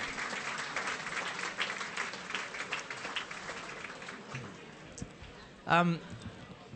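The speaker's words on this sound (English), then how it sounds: "Round of applause, thank you." Applause at a sports club medal night comes through faint and distant, a steady patter of many hands that gradually thins out. A short spoken phrase pokes through near the end.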